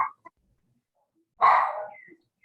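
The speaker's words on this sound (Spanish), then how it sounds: "Está el perrito." A small dog yaps once faintly, then gives one clear, sharp bark nearby in an otherwise quiet room during an online seminar.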